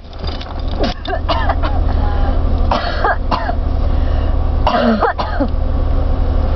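A person coughing and clearing the throat: several harsh, close coughs in quick bursts over a constant low vehicle rumble, as if inside a car, with some voice sounds mixed in.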